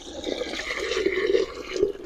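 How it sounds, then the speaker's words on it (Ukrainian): Warm water is poured steadily onto copper sulfate to dissolve it while mixing Bordeaux mixture, a continuous close splashing and gurgling with no speech. "Заливаємо його водою добре-добре теплою, для того, щоб він розтворився."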